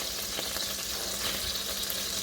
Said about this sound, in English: Next, we'll add our onion